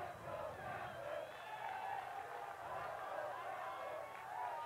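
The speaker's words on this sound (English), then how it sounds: "Chapman trying to force DeLuca to bring it up himself as the crowd comes back to life" College lacrosse crowd at a national championship final four game between Arizona State and Chapman, a continuous roar of voices swelling with energy, steady and fairly distant throughout.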